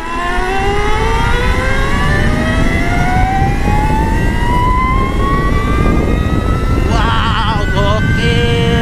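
A motorcycle engine revs up, its pitch climbing steadily as it accelerates, loud and close throughout.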